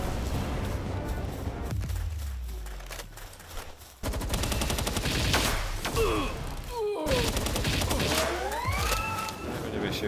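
Railgun shots in Palworld come as rapid bursts of heavy gunfire with thumping impacts and sweeping whines, dense and loud throughout, broken by a short pause near four seconds.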